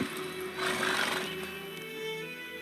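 Roach, the horse in The Witcher 3, neighs in a game scene: one short whinny near the start over a steady musical drone and background ambience, with no talk.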